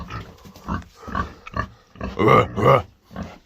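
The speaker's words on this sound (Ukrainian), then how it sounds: "У мене є свині." Pigs in a pen with mesh-covered walls grunt close by in a series of short, rough bursts, some louder and throatier than others, with brief pauses between.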